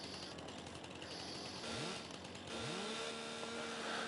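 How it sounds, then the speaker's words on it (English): Chainsaw in the farming video game Farming Simulator 22, a steady loud engine drone with a couple of rising revs, heard throughout. "Is that chainsaw really loud for you guys or no?"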